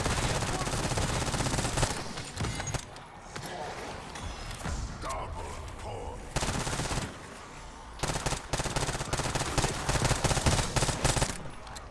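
Rapid bursts of video game gunfire, dense automatic shots in loud stretches with brief lulls, while a person talks over the shooting.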